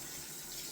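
Tap water runs steadily while a razor is rinsed during a wet shave, a soft, even hiss that stays faint and continuous with no other sounds.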